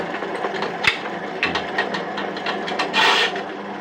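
A multipurpose workshop machine, a bench grinder and drill press setup used for making furniture, rasps and scrapes against wood in steady close bursts with a few sharper knocks, with no talking.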